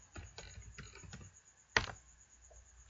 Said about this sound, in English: So I'll just type Nmap, then the P flag